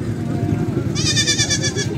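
A goat with kids bleats once at a goat market in Faisalabad, a loud, wavering cry of just under a second, rising over crowd chatter and talking nearby.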